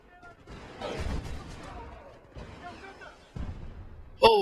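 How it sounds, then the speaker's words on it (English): Rockets fired and bursting in the shooter game Medal of Honor, a few loud separated booms and blasts with crackling tails and sharp bright clicks near the end. "I'm just gonna shoot rockets at people."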